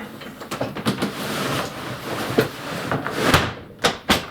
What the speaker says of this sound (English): That's the sound of a locking desk.